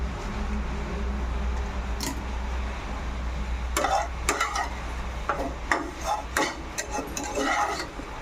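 Vermicelli (semai) frying in a pan for payesh, a soft sizzle under scattered sharp scrapes and clinks of a utensil stirring against the pan, the strokes coming in irregular clusters in the second half.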